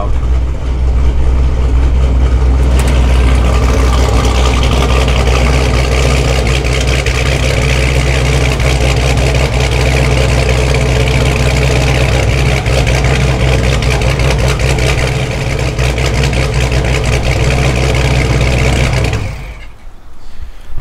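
A forged, supercharged 426 HEMI V8 in a Dodge Scat Pack idles loudly inside a closed garage, a deep steady rumble with a whining overtone that holds for about nineteen seconds before cutting off.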